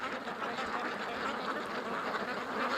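Ducks quack in an agitated chorus as a hawk circles overhead, a dense, continuous flock clamor at steady loudness with no talking.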